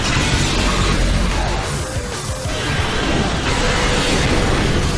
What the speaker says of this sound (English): Deluged by Hydro Cannon!